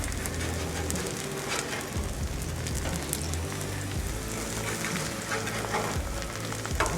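Eggs frying on a hot Blackstone griddle with the burners switched off, a steady crackling sizzle with small spits and pops, close and fairly loud with no talking.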